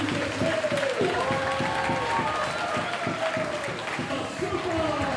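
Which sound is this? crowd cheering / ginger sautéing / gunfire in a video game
crowd cheering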